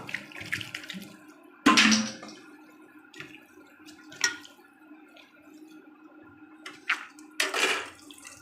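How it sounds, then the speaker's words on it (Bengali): Cold tap water splashes over boiled Maggi noodles in short, uneven bursts, with a few sharp gushes standing out above a steady trickle close by. "এবার একটু ঠান্ডা জল দিয়ে ধুয়ে নেব।"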